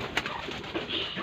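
Soft, low cooing of pigeons close by, a gentle murmuring coo with a faint brighter bird note partway through.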